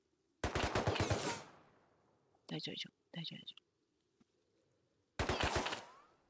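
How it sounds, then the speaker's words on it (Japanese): Two bursts of rapid automatic gunfire from the video game Rust, loud and sharp, with people talking in the quiet gap between them. "どこの人が撃ってんの今度。"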